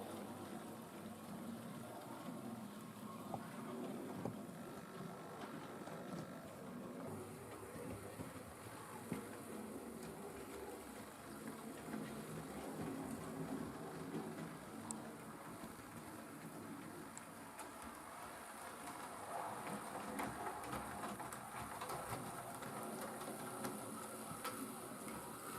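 A weathered Hornby BR 9F class model steam locomotive, 92220 Evening Star, running on DC power along second-radius track, giving a faint steady mechanical whir and light clicking rail noise that continues throughout.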